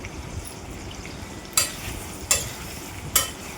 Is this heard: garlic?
yes